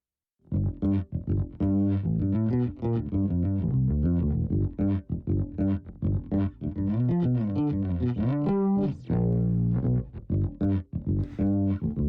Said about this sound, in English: let's take a look at this beautiful chorus they have